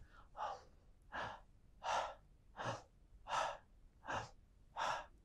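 Seven slow, deliberate breaths, each a long airy inhale or exhale with a brief pause between, close and quiet, no talking.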